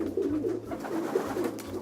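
Pigeons in a loft coo in soft, repeated low throaty calls, several overlapping birds close by with a gentle rhythmic pulse and no talking.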